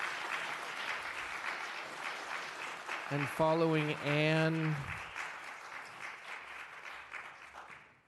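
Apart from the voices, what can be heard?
audience applause at city council meeting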